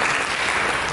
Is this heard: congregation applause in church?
yes